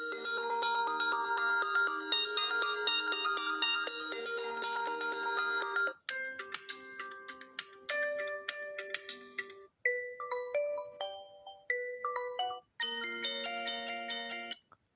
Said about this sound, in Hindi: जो स्पीकर है यहाँ पर उसकी क्वालिटी कैसी है, तो यहाँ पर रिंगटोन में चलते हैं।